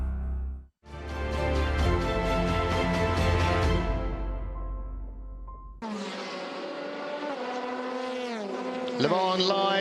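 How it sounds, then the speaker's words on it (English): LMP2 prototype race cars, including a Ligier Nissan, roar past at the 24 Hours of Le Mans. The loud, high engine note rises through the gears, cuts off briefly, then returns with another car's whine and a rapid downshift. "Looking here at one of our LMP2 battles, the G-Drive Ligier Nissan in front of number 47"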